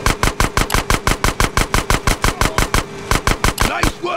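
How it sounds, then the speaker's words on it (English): Rapid automatic gunfire in GTA San Andreas Definitive Edition as a gate is shot out, a loud, steady stream of evenly spaced shots for about four seconds with a brief stutter near the end. "Shoot out the gate."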